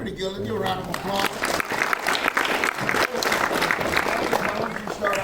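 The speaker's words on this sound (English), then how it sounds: "Let's give a round of applause." An audience at a master class applauds, a dense steady clapping that swells quickly, holds through the clip and tapers slightly at the end, with some voices mixed in.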